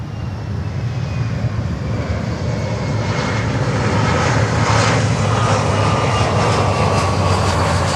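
Cargo aircraft engine at Miami airport, a loud steady roar that swells slightly over eight seconds, broad and continuous with a faint whining tone, heard alone without talk.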